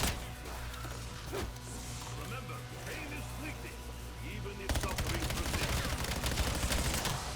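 Rapid gunfire from a zombies holdout round in a Call of Duty game, dense bursts of shots that grow louder and busier midway, mixed with game effects and talk.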